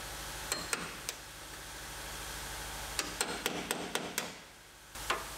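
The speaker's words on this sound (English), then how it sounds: "We're going to go with the chisel method. Get all our spot welds off," A chisel is driven against spot welds on a 2018 GMC Sierra Denali truck cab panel during body stripping. Sharp metallic knocks come in scattered bursts, a few early and then a quick run of strikes, over a steady background hiss.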